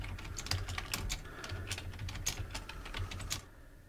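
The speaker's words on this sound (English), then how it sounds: "All you hear is me typing and me breathing." Steady close-up typing on a computer keyboard, a fast irregular patter of key clicks running for several seconds before stopping, with faint breathing barely noticeable underneath.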